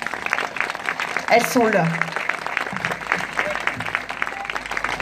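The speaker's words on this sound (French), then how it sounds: "Je crois qu'on peut les applaudir." An audience at a school inauguration in Lestrem applauds the teachers, a steady clapping that runs throughout while a person speaks briefly over it near the start.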